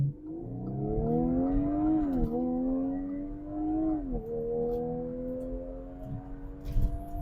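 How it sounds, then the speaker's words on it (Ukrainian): An Audi SQ5 (8R) engine revs hard in a launch start, brakes held then released, its pitch climbing steadily with a brief shift dip, then holding a strong drone. "вижимаємо газ, пускаємо гальма"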